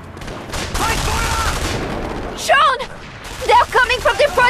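A rapid burst of gunfire from The Saboteur video game fills the opening seconds, followed by short shouted voices and more clipped sounds of combat.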